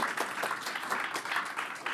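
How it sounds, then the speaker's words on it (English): Applause from a conference audience at a PyData lightning talks session, steady overlapping clapping filling the room throughout, fairly even in level with no voices standing out. "One more round of applause for our speakers and sponsors."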